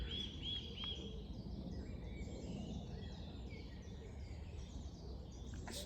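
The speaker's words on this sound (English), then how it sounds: "There's a blackbird singing in the distance." A blackbird sings faintly in the distance in a woodland, its thin phrases sitting over a steady outdoor background, with other small bird calls around and no talk.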